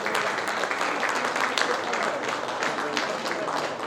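Steady applause from a seminar audience at a critical care medical conference in Ranchi, dense, continuous clapping filling the room without a break.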